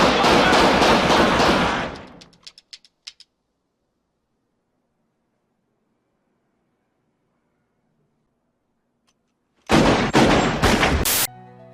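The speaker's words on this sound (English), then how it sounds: "after Jules and Vincent get shot at, and somehow not one bullet hits them" Gunfire from a Pulp Fiction film scene, a rapid loud burst of shots that cuts off into a few scattered cracks, long near-silence, then another dense volley of close, sharp shots at the end.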